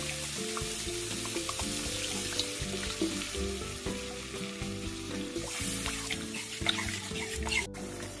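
Water poured into sizzling spice paste for a katla fish curry with winter spring onions, a steady close frying hiss with some stirring and clinks, no talk.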